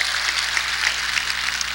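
A church congregation at a Korean Sunday worship service applauds, a dense, steady wash of clapping from many hands throughout the short moment.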